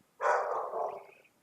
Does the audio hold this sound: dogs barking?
yes